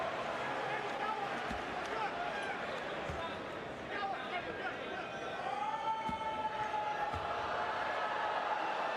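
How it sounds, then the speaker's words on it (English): Crowd noise fills a multi-deck college basketball arena at Wisconsin during a Montana State free throw, a steady, fairly distant murmur and rumble with a few sharp ball bounces and faint voices mixed in. "Crowd trying to make some noise."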